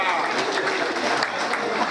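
Applause from a crowd at an outdoor ribbon-cutting inauguration, a thin steady patter of clapping mixed with murmuring voices, fairly distant and moderate in level.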